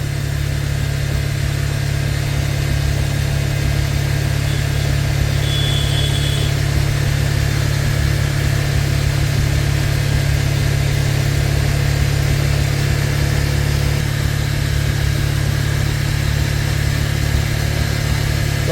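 A Bajaj Pulsar 125 motorcycle with a recurring fault idles at very low RPM, giving a steady, close, unchanging engine drone with a low throbbing hum that holds at the same loudness throughout, with no voices.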